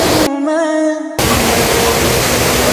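A waterfall at Batakundi, beside a glacier, pours down in a loud, close, continuous roar of rushing water and spray, briefly cut out by a short synthetic tone near the start.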